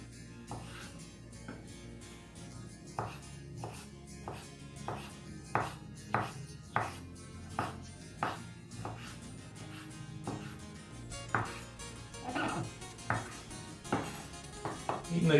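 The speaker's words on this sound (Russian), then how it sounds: "Нарежу огурчик другим ножичком." A knife slices a cucumber rhythmically on a board, a steady series of crisp, evenly spaced cuts, close and fairly quiet.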